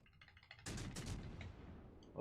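Naval gunfire from warships in World of Warships Legends, a sharp heavy blast that cuts in suddenly after a quiet rumble, followed by a long rolling decay; no talking.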